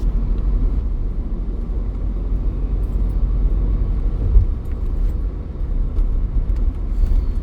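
A Hyundai Venue on Yokohama all-terrain tyres cruises along the Purvanchal Expressway, heard as a steady low rumble of road and tyre noise with a faint engine hum and one brief thump, and no talking.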